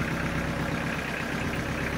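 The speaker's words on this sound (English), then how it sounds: "I got the Kubota running." A Kubota tractor engine running at a steady idle, a continuous low, even drone that holds constant throughout, close by, with no talking over it.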